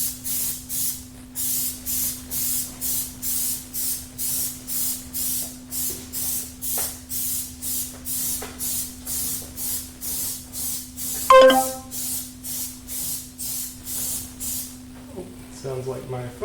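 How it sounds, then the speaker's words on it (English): Repeated short bursts of Plasti Dip rubber coating aerosol spray hiss in a steady rhythm, close and loud, over a constant low electrical hum, with a brief clatter near the end. "I don't know if you can tell by the sound of the spray, but I did change to a newer can"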